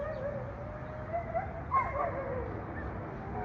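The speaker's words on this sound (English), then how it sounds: "we have a dog barking in the background." A dog barks a few times in the distance, faint and intermittent over a low background hum.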